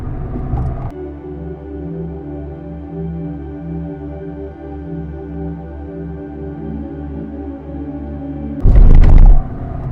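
A car drives a mountain road in Ladakh past fresh landslide rockfall, its engine a steady low harmonic drone with bursts of louder rough noise at the start and end.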